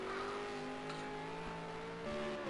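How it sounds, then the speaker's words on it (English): A supercar engine in an esports Supercars Championship racing game at Dubai Autodrome, growing louder as it approaches, its steady rising whine climbing through the gears with a brief shift near the end, alone without talk. "There's Sebastian's car just in the foreground. You can see it. And we can start to hear it now as well."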